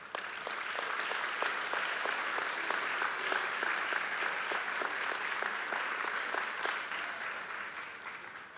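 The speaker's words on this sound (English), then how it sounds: "if they could stand and give them a round of applause." Convocation crowd applauds teachers at a 2017 ceremony, a sustained, fairly distant wash of clapping with distinct hand claps standing out, tapering slightly toward the end.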